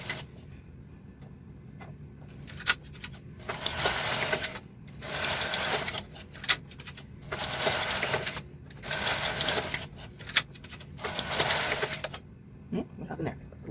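Silver Reed SK 560 knitting machine carriage sliding across the needle bed while a long sweater is knitted, giving repeated bursts of loud rattling, clicking passes separated by brief pauses, close and alone.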